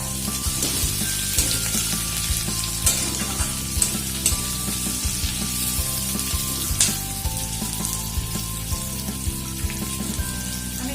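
Cubed capsicum and onion fry in a pan for a chilli paneer dish, a dense continuous crackling sizzle with occasional stirring taps, close and fairly loud.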